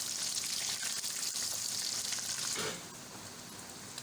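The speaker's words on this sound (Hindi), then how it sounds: "चिकन हमारी फ्राई हो रही है।" Chicken fries in a pan with a dense, close sizzle that drops to a quieter, even crackle partway through, with no talking.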